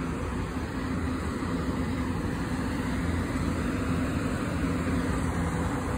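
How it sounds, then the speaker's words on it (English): A three-car SEPTA commuter train passes close by as a steady, loud rumble and rushing roar that holds throughout, with no voices. "Hey, you see that septa train right here?"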